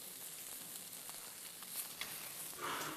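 Steak sears in a frying pan during a chef's cooking masterclass, giving a steady, even sizzle that stays faint and continuous throughout with no talking.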